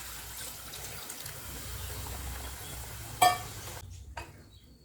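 Coconut milk pours into a pan of Malabar prawn curry as a steady, soft liquid splashing that runs for several seconds, ends with a clink of a utensil, and is followed by near silence.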